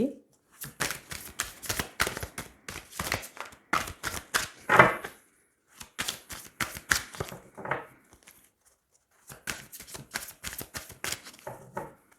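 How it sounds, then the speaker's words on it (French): Tarot cards being shuffled and drawn by hand, bursts of quick riffling and snapping card sounds up close, pausing between handfuls with short silences and some speech in between. "Allez, on va tirer 9 cartes."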